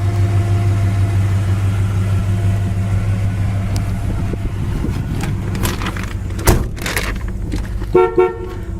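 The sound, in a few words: horn of a 1964 Chevy Chevelle convertible honking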